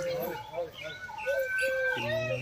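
Birds in a walk-through aviary at Mahendra Chaudhary Zoological Park near Chandigarh chirp and whistle in short bright calls that overlap and repeat. People talk beneath and between the calls.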